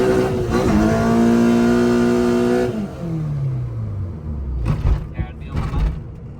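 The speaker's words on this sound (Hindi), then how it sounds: "अब गाड़ी थोड़ी भगा के चेक करते हैं। पहले गेयर से भगाएंगे।" A tuned car accelerating hard from first gear, the engine revving loudly and climbing through the gears before dropping off, with bursts of road and tire noise toward the end.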